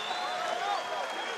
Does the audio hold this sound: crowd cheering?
yes